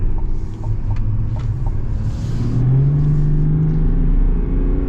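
A 2025 Chevy Silverado ZR2 diesel truck accelerates with a low, steady engine rumble whose pitch climbs as it pulls forward, heard from inside the cab.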